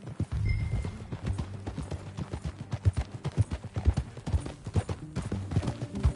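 A horse's hooves clip-clop steadily in the Western game Red Dead, close and rhythmic at a brisk walking pace, with a short whinny near the start.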